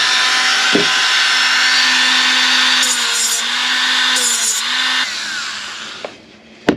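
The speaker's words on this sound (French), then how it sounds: "on va enlever les résidus de métal qui dépassent de l'intérieur" A power tool grinding away protruding metal residue from the inside of a Stahlhelm M34 steel helmet shell, loud and continuous at close range with a steady whine, stopping near the end with a final clunk.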